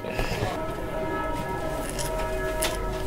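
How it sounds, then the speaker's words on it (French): Church bells ring steadily in the background outside a room where people talk while modelling a small clay figurine, the sustained tones sounding under the conversation. "Quelqu'un peut aller arrêter les cloches là?"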